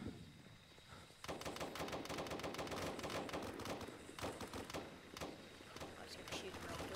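Rapid bursts of automatic gunfire in the video game BRM5 during an assault on Ronograd city, repeated volleys loud and close, with a voice talking between shots.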